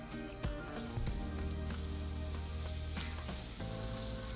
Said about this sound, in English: we're going to set it on medium-high heat. And we're going to throw in our 5 tablespoons of unsalted butter.